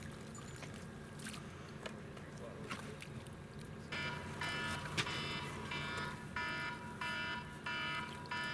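An irrigation device alarm goes off, a bright pulsing electronic tone that starts partway through and repeats in short bursts over low background noise.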